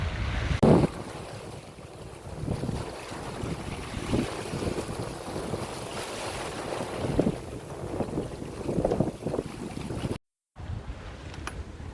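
Sailboat crossing the Atlantic in roughly 20 knots of wind and a lively sea, with wind buffeting the microphone over rushing water and waves against the hull, steady and close, briefly cutting out near the end.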